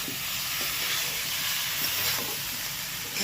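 New winter potatoes sautéing with spices in a hot pan give a dense, steady sizzle and hiss, with soft stirring scrapes breaking through now and then, close and fairly loud.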